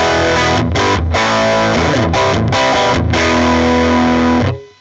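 Heavily distorted electric guitar through a Milkman Creamer amp plugin, playing loud, dense chords with brief rhythmic gaps between strums, then cutting off and fading at the end; no voices.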